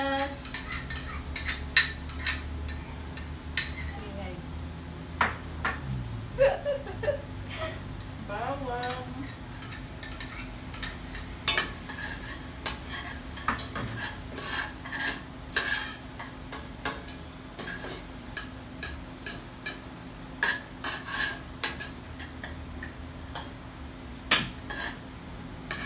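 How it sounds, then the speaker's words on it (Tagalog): Garlic and onion sautéing in oil for a meatball soup broth, a soft steady sizzle with frequent clinks and scrapes of a utensil against the pan, close by. "magigisa po muna tayo ng bawang and sibuyas"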